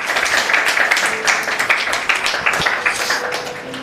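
Applause from an audience at a motivational talk, a dense, continuous patter of many hands clapping at moderate volume with faint voices mixed in.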